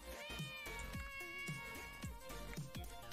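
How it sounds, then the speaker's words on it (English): A cat in the game Nemesis Lockdown meows repeatedly in a series of clear, tonal cries with short gaps between them, set over a soft, steady game music bed. "That sounds like the cat's over here."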